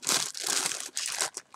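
A plastic bag full of sewing trim crinkles and rustles loudly up close, in several continuous bursts of handling with short pauses between them.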